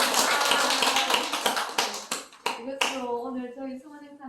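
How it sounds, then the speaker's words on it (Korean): Audience clapping at the close of a tea and life talk event fades from a full round into a few sharp separate claps, with a voice speaking over the tail. "박수 한번 더 부탁드리겠습니다."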